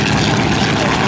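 A Fairchild PT-19 trainer aircraft's radial engine roars loud and steady, close by, as it makes its takeoff roll at a World War II weekend event.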